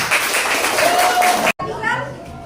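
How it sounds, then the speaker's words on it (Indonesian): Students clap in a classroom during a religious education lesson, a steady burst of applause with voices mixed in, cut by a brief gap before softer clapping and chatter resume. "Kasih lihat tepuk tangan dulu."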